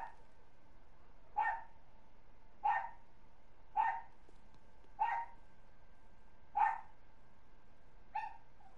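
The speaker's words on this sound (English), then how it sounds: "Jack Attack, what you barking at, pup?" A pet dog barks in single sharp woofs, six of them at steady intervals of about one and a half seconds, fairly close and alone with no talk over them.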